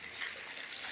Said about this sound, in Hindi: पानी का झरना हमारे यही है, फूट रहा है